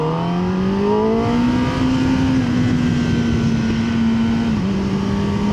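A 2025 Kawasaki ZX-10R Ninja engine pulls hard and loud at high revs, its whine climbing steadily before a quick dip at a gear shift.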